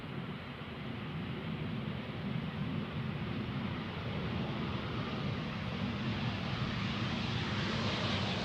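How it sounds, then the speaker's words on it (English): KLM Embraer 190 arriving at Amsterdam Schiphol on runway 18R from Brussels: a broad, steady jet roar that swells gradually louder as the aircraft nears, with no voices over it. "So another Embraer 190 from KLM,"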